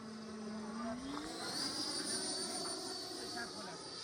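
An E-flite Viper 90mm EDF RC jet makes a low pass, giving a continuous high-pitched ducted-fan whine that swells and then settles. The sound is fairly faint and steady, with no clear talk over it.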